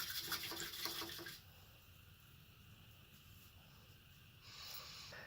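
A paintbrush is rinsed in water while hand-painting wooden Christmas ornaments, a brief close swish and slosh at first that settles into a quiet stretch, then a faint trickle near the end.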